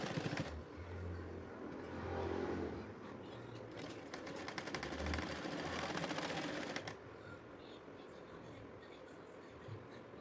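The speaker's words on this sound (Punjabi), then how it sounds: "ਇਹਨੂੰ ਆਪਾਂ ਹੁਣ ਸਿਲਾਈ ਲਗਾਵਾਂਗੇ" Sewing machine stitching fabric for a kurta-style garment, a steady mechanical whir running for several seconds before stopping, fairly near over a constant low background hum.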